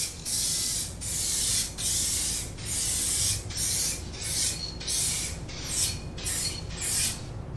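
Aerosol spray paint dusted onto a car panel as a light orientation coat: about eight rhythmic hissing bursts, each roughly a second long with short gaps, close and steady, no talking.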